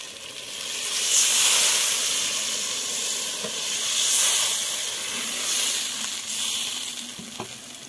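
Water poured onto hilsa fish frying in a pan, raising loud steam hiss in surging waves over a steady sizzle, with a few faint clinks, and no voices.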